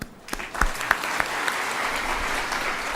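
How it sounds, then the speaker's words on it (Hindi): A lecture audience bursts into applause during a Gayatri Jayanti evening talk, starting with a few sharp claps and swelling into a steady, even roar of many hands that continues without speech. "मेरे ख्याल है हम लोग ताली बजा सकते हैं।"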